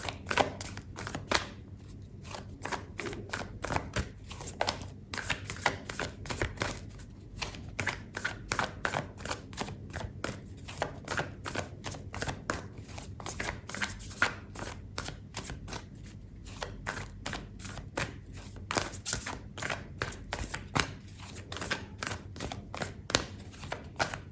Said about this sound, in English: I'm gonna pull out an oracle card for you, Sagittarius.